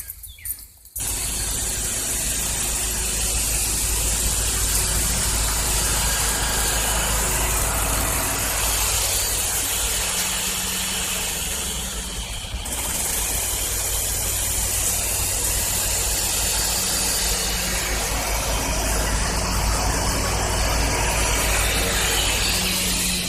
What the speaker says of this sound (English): Let me go start the mower and I'm gonna drive it around and you'll see me come through.